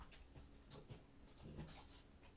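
A dog named Oscar pants and smacks its lips indoors, soft quick breaths and wet mouth sounds in short bursts, close and quiet, with no talking.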